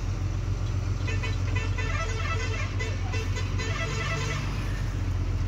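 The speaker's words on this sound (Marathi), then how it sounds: "हा त्यांना हॉर्न मारतो" Vehicle horns toot in dense road traffic during a truck journey, repeated short honks over a steady loud rumble of engines and road noise, with no talking.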